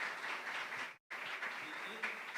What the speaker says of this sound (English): So everyone, a round of applause for them.